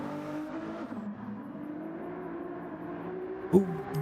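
A Ferrari race car engine drones steadily in a racing video game, its pitch wavering and climbing slightly, with a short sharp thump near the end.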